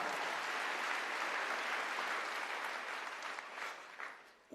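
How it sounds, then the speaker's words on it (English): Conference audience applauding steadily at a political event, dense sustained clapping that holds loud and full before thinning slightly toward the end. "you can clap"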